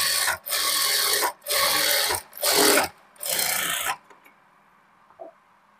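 Sewing machine stitching invisible piping along a garment sleeve: four bursts of rapid mechanical rasping, each about a second long with brief pauses between, close and fairly loud, ending in near silence.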